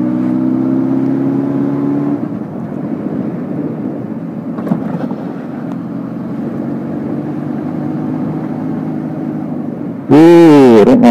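A motorbike engine drones steadily while riding: a low, humming drone with gently shifting pitch and wind noise, ending in a sudden loud, harsh burst.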